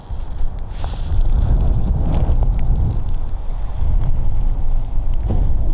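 Wind blows hard and steadily across an outdoor lure fishing spot, a loud, continuous rumbling roar with faint gusting buffets against the microphone.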